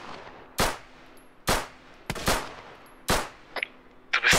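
Gunfire in the video game ArmA 3: five loud, sharp shots spaced roughly a second apart, each with a short decaying tail, and a couple of fainter cracks near the end.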